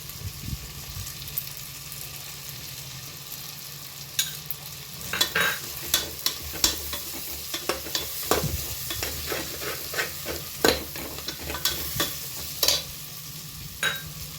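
Onions frying with chilli powder in a pan for egg biryani, a steady sizzle with repeated scraping stirs that grow busier partway through, close and with no voices.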